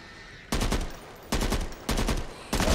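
Four loud bursts of rapid automatic gunfire from the video game Back 4 Blood, each lasting about half a second and separated by short pauses, close and punchy with no talking.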